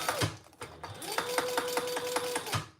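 A sewing machine stitching a gusset while binding a Phoebe bag, with a whirring motor run and a rapid, regular needle rhythm, near and clear, between short stops at the start and end.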